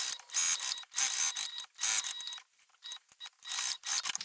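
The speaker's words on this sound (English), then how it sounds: "I want to sew it around all four sides" A sewing machine stitches around the lining pocket of a handmade bag in quick, rattling mechanical bursts, with short pauses between runs of stitching.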